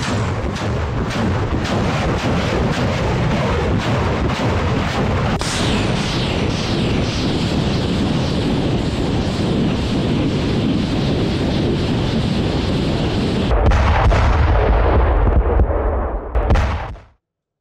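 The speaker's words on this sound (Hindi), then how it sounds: "उधर मल्टीपल रॉकेट लॉन्चर से रूस का बड़ा हमला।" A Russian multiple rocket launcher fires in a Ukrainian war zone. A rapid string of sharp, loud launch blasts gives way to a sustained roaring rush with heavy wind buffeting the microphone, then cuts off abruptly.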